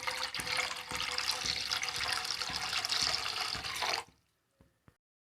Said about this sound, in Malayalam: ഈ കടായിലേക്ക് വെള്ളം ഒഴിച്ചു കൊടുക്കുക.